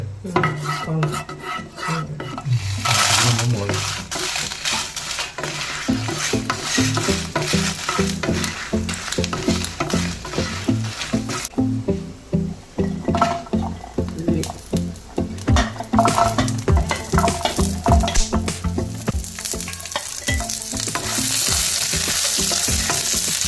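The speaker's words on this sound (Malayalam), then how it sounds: "ഉള്ളിയും മുളകും എണ്ണയിൽ വാട്ടി" Onions and chilies sauté in hot oil, a loud, close, continuous sizzle overlaid with rhythmic scraping as a spoon stirs them around the pan.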